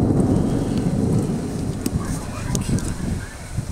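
Rain falling during a storm near a tornado outside Syracuse, Kansas, a dense steady wash with low rumble and wind, continuous and close throughout.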